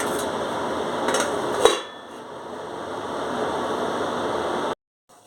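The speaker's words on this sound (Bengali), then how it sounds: "আর গ্যাসটা সিম করে আমি একটু ঢেকে রাখবো কিছুক্ষণ।" A metal lid clanks once onto a pan of pomfret curry on a gas stove turned down low, then a quieter steady hiss continues before cutting off.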